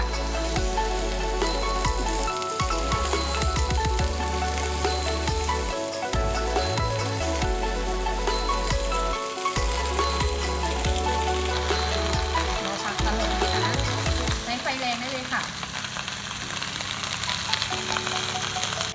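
Steady, loud sizzling of cabbage frying with garlic in a hot pan, with occasional stirring clatter and a low hum running underneath throughout.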